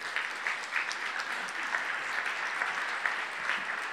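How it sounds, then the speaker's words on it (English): Audience applause at a storytelling event, a steady wash of clapping from a crowd that continues evenly throughout without any talk over it. "So, an applause."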